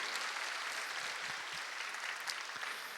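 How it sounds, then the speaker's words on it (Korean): Soft, distant applause from a church congregation at a young adults' worship service honoring its Sunday school teachers, a steady even patter of many hands with a few louder claps. "감사하다고 박수 한번 합시다"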